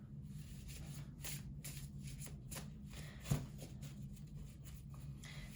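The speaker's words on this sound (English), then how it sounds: "Thanks for bearing with me on the shuffle or the card pulling." Tarot cards are shuffled and pulled by hand in a steady, close, papery riffle of soft flicks and slides, with one sharper snap near the middle and no talking.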